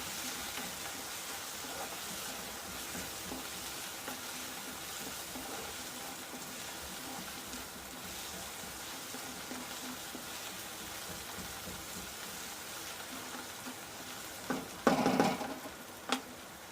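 Tomatoes, onion and green chilies frying in a pan for kanda poha, a soft steady sizzle close by with light stirring, then a brief burst of clattering near the end.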